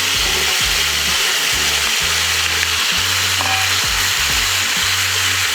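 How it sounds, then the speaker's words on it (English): Onions tossed onto seared turkey in a hot pot, a loud continuous sizzle filling the scene, with bursts of low hum underneath and no voices. "And then we're gonna add our onions."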